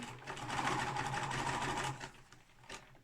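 A sewing machine runs a tight, wide zigzag stitch on a tote bag, a fast steady mechanical whirr and rattle for about two seconds, then stopping with a few faint clicks, close and fairly quiet.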